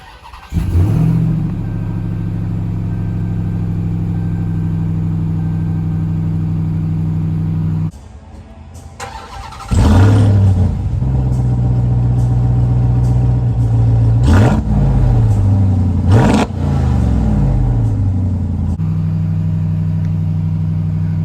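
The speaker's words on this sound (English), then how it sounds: "press the dash mounted button to start the engine" A 2022 Ram 1500 TRX pickup starts from a dash-mounted button and settles into a loud, deep idle. The engine drops off briefly, then picks up again with a few blips of revving before it holds a steady rumble.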